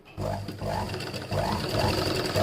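A sewing machine stitches the back piece of a blouse, its motor whirring in short bursts close by, stopping briefly and starting again.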